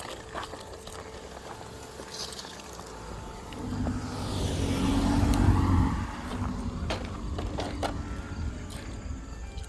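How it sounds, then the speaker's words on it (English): A car approaches and passes nearby in Gettysburg, Pennsylvania, its engine and tire noise swelling to a peak mid-clip and fading, over outdoor background noise. "There's a car coming."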